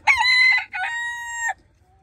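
A rooster crows loudly and close by in a single full cock-a-doodle-doo, clear and alone against a quiet farm background.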